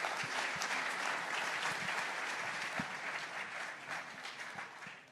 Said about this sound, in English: both of you truly deserve an incredible round of applause